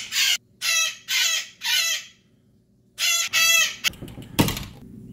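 Pet parrots shriek in loud, harsh bursts, four long screeching calls with short gaps between them, followed by scattered squawks and rustling clatter as they react to a tortoise indoors.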